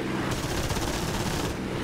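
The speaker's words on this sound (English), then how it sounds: "And that is the machine guns." Wing-mounted machine guns of a Spitfire Mk IX firing in the flight simulator DCS World, a steady rapid rattle of shots in one continuous loud burst over engine roar.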